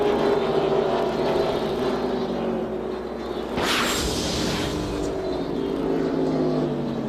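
NASCAR race cars from the 2004 season roar around the track in a dense, droning wall of engine noise, with one car sweeping close by midway in a brief louder whoosh.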